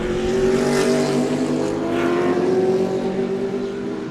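Racing cars in a GT event at Sebring roar past close by, a loud continuous engine drone with steady harmonic tones that swell and fade slightly as the cars run evenly matched.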